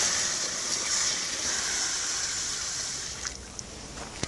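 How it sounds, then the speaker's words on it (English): Water poured onto hot iron gives off a loud, continuous steam hiss that holds steady, then thins out near the end with a few small pops and spits. "Cool this down by putting water on it. So you're going to get a face full of steam."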